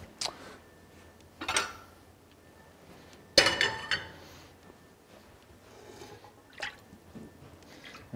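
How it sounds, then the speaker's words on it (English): Cooked vegetables are strained out of soup stock, with scattered splashes, wet drips and a few sharp clinks of a pot or strainer spread over several seconds, close and fairly quiet between bursts. "All I'm gonna do is strain the veggies."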